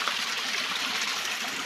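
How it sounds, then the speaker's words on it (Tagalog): A cold mountain stream flows steadily in the highlands, a continuous close broadband rush and trickle of water over rocks with no voices. "Ito po ang aming sapa."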